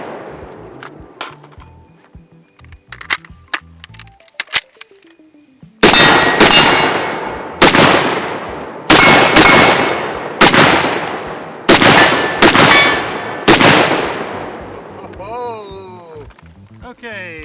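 Shots at steel targets on an outdoor range, each crack followed by a bright ringing clang that fades, about eight strong hits in a steady rhythm after a few quieter knocks and thuds, with a voice heard early on.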